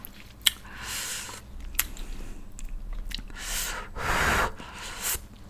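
Someone eats very spicy Korean buldak chicken stew with Chinese glass noodles, close to the mic in ASMR style. Soft, wet chewing and slurping sounds repeat with a few sharper bites and sniffs, and no one talks.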